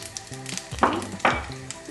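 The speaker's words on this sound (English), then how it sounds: "Mustard has spluttered." Mustard seeds sizzle and splutter in hot oil in a home kitchen pan, a close steady frying hiss with two sharp bursts of popping.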